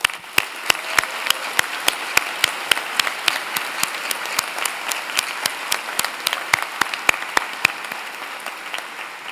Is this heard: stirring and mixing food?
no